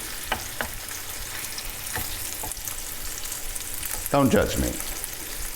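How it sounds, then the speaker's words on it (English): Chorizo browning in a frying pan like hamburger meat, giving a steady low sizzle with a few sharp scraping stirs and a louder clatter near the end, while a voice speaks briefly. "I just assumed to brown it like hamburger meat."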